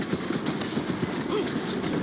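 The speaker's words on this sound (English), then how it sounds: "Jump on that train!" A train in the video game Red Dead Redemption 2 rumbles along steadily with a rhythmic clatter of wheels on track, loud and close, with a brief shout partway through.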